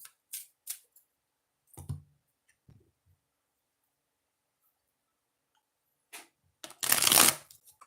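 Tarot cards being shuffled in bursts, with a few short riffles early on, a long quiet gap, then a louder, fuller riffle near the end, close and alone.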